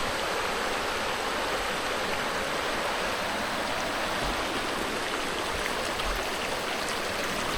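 A strong stream rushes steadily in broadband, continuous water noise, loud and close throughout with no voices.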